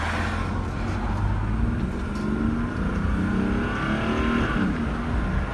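A 1995 Mercedes-Benz E300 Diesel with an OM606 engine revs hard under full throttle, a low growl climbing steadily in pitch as the car accelerates, loud and continuous from inside.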